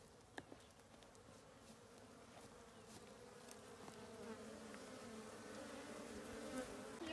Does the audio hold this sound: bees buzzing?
yes